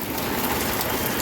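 Steady rain falls outside office windows, a dense, even hiss of drops on surfaces that stays unbroken and fairly loud throughout the short stretch.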